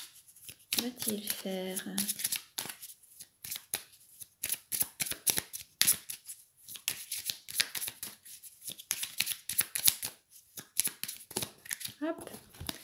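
A deck of oracle cards is shuffled in rapid, crisp riffling bursts that run almost without pause, while someone speaks French over the flutter.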